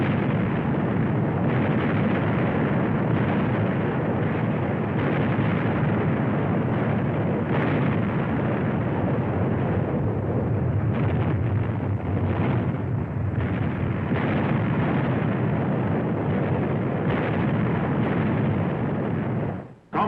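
Heavy cannon broadsides exchanged between sailing warships roar as a dense, continuous rumble of blasts and booms, loud and sustained throughout before cutting off abruptly at the end.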